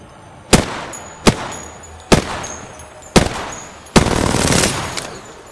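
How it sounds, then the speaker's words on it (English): Automatic gunfire in Apex Legends as a cargo bot is shot: four sharp, loud bursts at steady intervals, then a longer sustained rattle of shots, with no talking. "Shot a cargo bot."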